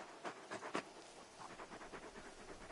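Torgal, a big dog in Final Fantasy XVI, pants in quick, soft, rhythmic breaths, faint and close, with no other sounds over it.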